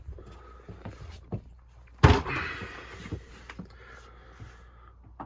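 A camper van's sliding side door is handled, with one loud thunk or slam partway through, then scattered lighter knocks and clicks of metal in a quiet space.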